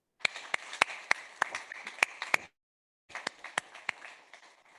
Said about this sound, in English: Were you able to hear that applause?